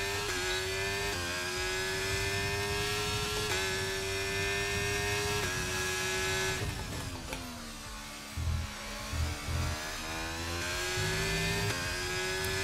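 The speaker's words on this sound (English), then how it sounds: "the Ferrari engine in this car throws me off. So much whinier than the Mercedes engine that we've got in the Aston. You just hear the turbo." Ferrari turbocharged F1 engine of a Lotus car in a racing video game, a steady high-pitched whiny drone with turbo whistle and shifting revs, continuous and loud throughout, no talking.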